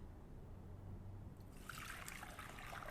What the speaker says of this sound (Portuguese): Agora que passou meia hora com a tâmara na água quente, tiramos esta água.